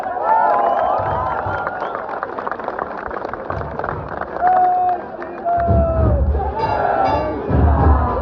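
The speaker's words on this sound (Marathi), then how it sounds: "आपण एका जोरदार टाळ्या" A gathered audience at a community event in Kurla breaks into loud cheering and applause, a dense crowd roar with shouts that swells and dips across the whole stretch, close and sustained.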